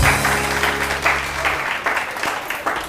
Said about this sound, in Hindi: बहुत सारी तालियां इनके लिए, बहुत सारी तालियां।